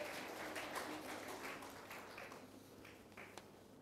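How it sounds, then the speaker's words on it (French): An audience at a school reading-competition awards ceremony applauds a top student, a soft, fairly distant patter of many hands clapping that fades slightly toward the end. "Applaudissez très fort."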